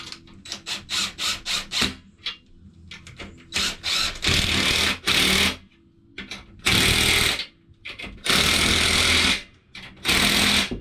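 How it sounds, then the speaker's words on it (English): A small impact wrench snugs up bolts in repeated bursts, short rapid hammering rattles first, then longer loud buzzing runs separated by brief pauses, close by. "We are going to snug these up with the little impact"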